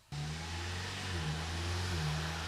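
A Ford Mustang EcoBoost with a front-mount intercooler starts a steady, loud drone on a dyno, the engine note climbing gradually as it pulls through the gears, with no voices.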